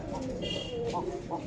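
Caged pigeons cooing softly, a few short low coos close by over a steady background murmur.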